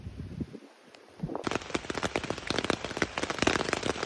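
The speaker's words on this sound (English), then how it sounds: "We are now obviously in our tent, and it is raining." Rain drums steadily on a tent, a dense crackle of close drops that starts abruptly after a brief quieter stretch and then continues loud and unbroken.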